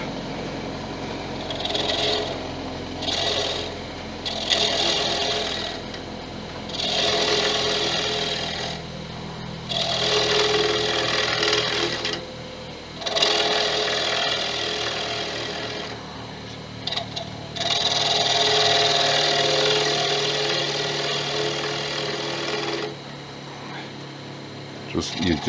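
A wood turning gouge is sharpened on a grinder in a workshop: a steady abrasive whine runs in long sustained stretches, broken by several short pauses as the tool is lifted and reapplied, fairly loud and close, without any talking.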